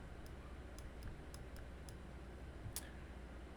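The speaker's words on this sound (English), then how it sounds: "Want to make sure I'm not clicking the wrong link here." Computer mouse clicks while opening a web link, a handful of sharp, light ticks spaced irregularly over a steady faint background hum, close by with no talk.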